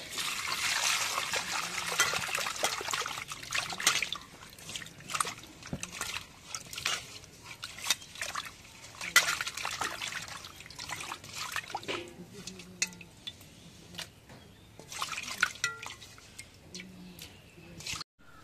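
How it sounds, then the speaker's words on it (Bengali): Potatoes are washed by hand in water, with intermittent splashing, trickling and squishy rubbing sounds close by in irregular bursts, and some faint talk in the background. "এখন যে আলুটা ধুয়ে নেই।"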